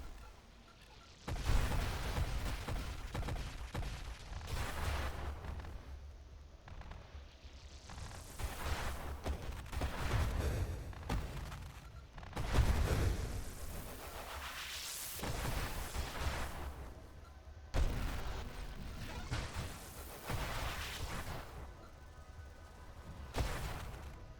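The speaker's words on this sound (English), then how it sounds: "Those explosions will probably kill us sooner or later." Repeated booming explosions from the Nova Drift space shooter, dense and continuous with periodic louder bursts over a steady rumbling game soundscape, no talking.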